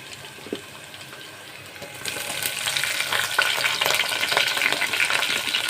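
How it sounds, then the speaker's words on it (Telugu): Chopped onions tipped into garlic already frying in a pan, quiet at first, then a loud bright sizzle that swells at the drop and stays busy with crackling, alone without talk. "దీంట్లోకి మనం కట్ చేసి పెట్టుకున్న ఆనియన్స్ కూడా వేసేసుకుందాం"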